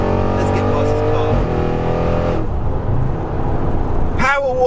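A loud Audi RS6 with an Armytrix stage 2 exhaust and about 700 horsepower accelerates hard past another car, its engine roaring through rising gears with a sharp shift and crackle near the end, alongside talk.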